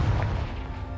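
A fire spell bursting in Hogwarts Legacy, a short, heavy explosive rumble with a dull low boom that fades quickly, heard on its own.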